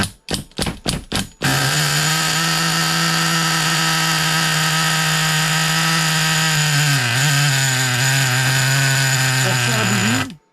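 Several quick pull-start tugs on a T2M Pirate Thunder 1/10 nitro RC car, then the small engine fires into a loud, high buzzing run with a couple of brief revs before it cuts out.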